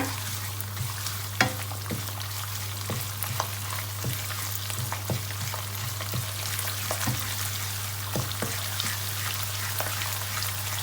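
Red curry paste stir-fries in a pan with a soft, constant sizzle and a steady low hum, while regular light scrapes and taps of a spatula click through it, close and fairly quiet, no talking.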